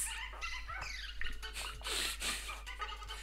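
Dog yips and barks from the Dr. Mario video game, several quick cries in a row over busy, bright game music, with no talking.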